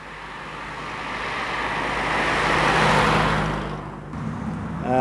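A classic Austin A35 with a 950cc, 34 brake horsepower engine drives along a hilly South Wales road, its steady engine and road rumble swelling to a peak before easing slightly, with no voices.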